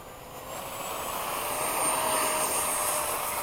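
A steady high-pitched whine of a 70mm electric ducted fan on a model F-16 jet during its maiden flight, continuous and moderately distant, rising slightly in intensity.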